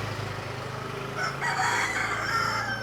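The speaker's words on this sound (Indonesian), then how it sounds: "Suara ayam." A rooster crows just after dawn prayer in a quiet neighbourhood, one drawn-out cock-a-doodle-doo at a moderate distance over soft background hum.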